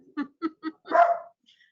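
A dog barks three times in quick succession, then gives one longer, drawn-out bark, fairly close and alone in an otherwise quiet room.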